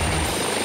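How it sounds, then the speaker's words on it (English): AgustaWestland AW139 helicopter in a mountain rescue setting, a loud, close, steady rotor and engine roar with a low thumping drone through the whole moment. "Helicopters are ideal for mountain rescue because of their ability to hover or even"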